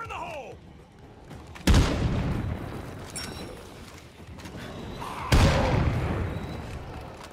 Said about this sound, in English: So the C4 isn't as strong as it was against the first plague wall.